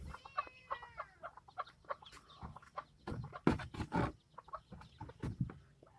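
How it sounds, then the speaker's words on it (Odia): Chickens clucking at evening on a farm, a busy mix of near clucks and short calls with a rooster-like crow at the start, no voices. "କୁକୁଡ଼ା ତ ସବୁ ପୁରେଇଦେବା।"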